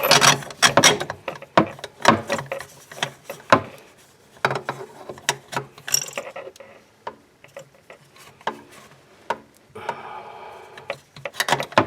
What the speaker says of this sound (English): I'm going to put a screwdriver through that little hole right there, and I'm going to turn that bolt and break it loose